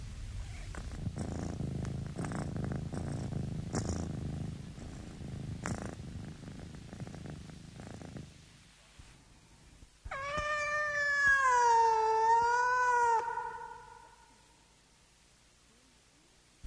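A domestic cat purrs in a low, rumbling stretch close by, then gives one long, drawn-out meow that rises and wavers before fading into silence.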